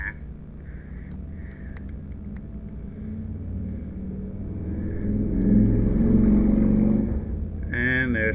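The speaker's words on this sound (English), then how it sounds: "there's just a motorcycle going by" A motorcycle engine rumbles steadily in the background, swelling louder for a couple of seconds as it passes, then fading. A brief higher revving sound comes near the end.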